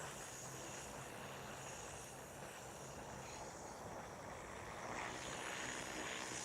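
A Freefly Alta multirotor drone taking off, its propellers giving a continuous whirring, buzzing drone that holds fairly steady, at a moderate distance and rather faint, with no voices.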